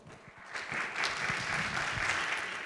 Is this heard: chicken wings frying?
no